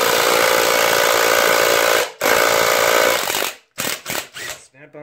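A Snap-on 3/8-inch cordless impact wrench hammers loudly and close in two long bursts, then a few short stuttering pulses as it struggles on the fastener.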